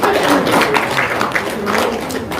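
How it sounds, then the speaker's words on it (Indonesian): Dense, steady applause from an audience at a live religious gathering, filling the whole stretch at a loud level with voices mixed in. "Tepuk tangan dulu dong."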